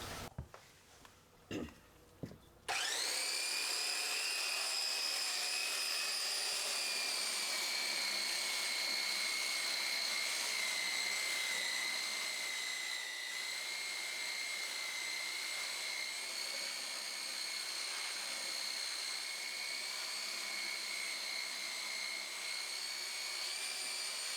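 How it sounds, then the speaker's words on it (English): After a few faint knocks, a belt sander with coarse-grit paper starts up on a rough butcher block table top. It holds a loud, steady, high-pitched whine close by for the rest of the stretch. "we're going to have to work on it with a belt sander"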